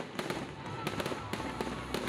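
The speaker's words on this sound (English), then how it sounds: "celebratory fireworks lit up the sky." Celebratory fireworks burst after a homecoming boat burning, with a series of sharp cracks and pops at irregular intervals over a steady crowd-like background, moderately loud and at a distance.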